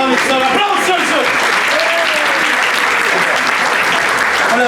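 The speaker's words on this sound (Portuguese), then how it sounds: "Salve, salve, aplausos, senhores!" Loud, dense applause from a full theatre audience fills the whole stretch, steady and sustained, with a voice calling out over the clapping early on.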